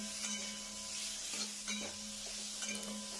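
Hog plums stirred with tempering spices, turmeric and salt in a pan give a soft sizzle with faint scraping stir strokes over a low steady hum, quiet and close.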